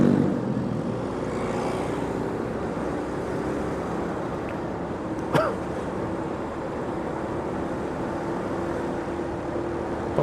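A motorcycle engine drones steadily while riding the Puncak–Ciawi route, a continuous engine and wind roar with one brief click partway through.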